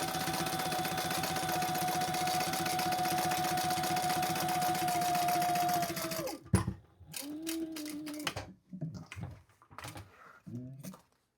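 A sewing machine basting folded fabric flat for a crossbody bag runs steadily for about six seconds, then stops, followed by scattered handling clicks and thumps up close.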